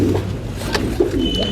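Pure French meat pigeons coo close by, a few soft throaty rolling calls rising and falling over a faint background hum.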